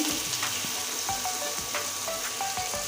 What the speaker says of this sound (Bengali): কুচানো পেঁয়াজ এই পেঁয়াজটা দিয়ে দিচ্ছি ভেজে নেব